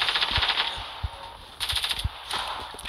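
Rapid bursts of gunfire from a gun in a video game, crisp and loud, coming in quick rhythmic volleys with short pauses between them.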